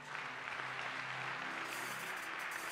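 A church congregation at a worship service applauds, a faint, steady wash of many hands clapping in a large room, continuous throughout without pauses.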